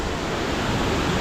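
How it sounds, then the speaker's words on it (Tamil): Jogini waterfall near Manali roars with a steady, dense rush of splashing water close by, continuous and loud without any voices. "தண்ணி பட்டு தெரிக்குது."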